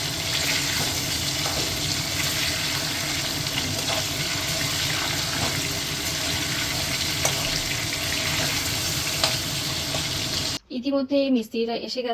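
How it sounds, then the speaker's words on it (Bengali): Potatoes cut in large pieces fry in hot oil with salt and turmeric, a loud continuous sizzle filling most of the stretch before it cuts off and a voice speaks briefly at the end. "এখন আলুগুলো নুন আর হলুদ দিয়ে ভেজে নেব"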